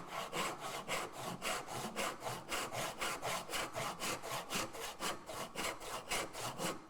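A hand saw cuts a sapele wood tenon in a regular back-and-forth rhythm, about three rasping strokes per second, close and clear with no talking.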